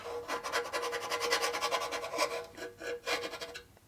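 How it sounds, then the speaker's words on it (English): A pocket knife scrapes in quick repeated strokes while getting a 1941 74ci Knucklehead bobber running. The rasping is close and fairly loud, in a steady back-and-forth rhythm, with a short pause near the end. "Does a much better job in the pocket knife. It's actually made to do scraping."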